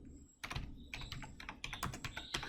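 A command goes in on a computer keyboard as a quick burst of close, crisp key clicks in an uneven rhythm over about two seconds after a brief quiet start, with no speech.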